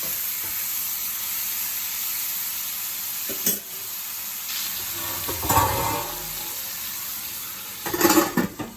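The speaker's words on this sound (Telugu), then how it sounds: "టమోటాస్ వేసుకొని టమోటాని వేసేసుకున్నాక ఇలా ఒకసారి మొత్తం తిప్పేసుకొని మూత పెట్టుకోవాలి" Tomatoes and onions frying for egg curry: a steady soft sizzle with a few distinct scrapes and clinks of a spoon stirring against the pan, close and otherwise without talk.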